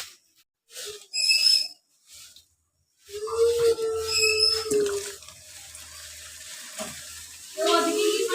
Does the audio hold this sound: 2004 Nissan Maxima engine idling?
no